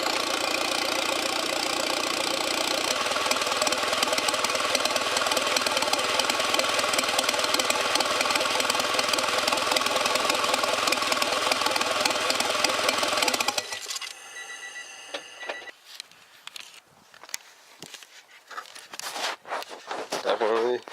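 A turbocharged Honda Civic EG hatchback running for the first time after the turbo build, idling loudly and steadily up close, then it cuts off into quieter scattered clatter and handling noises.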